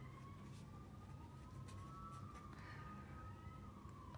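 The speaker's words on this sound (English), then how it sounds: "sorry about the police cars," Police car sirens wail steadily outside, a continuous rising-and-falling tone at moderate distance over a low rumble of traffic, with no talk over it.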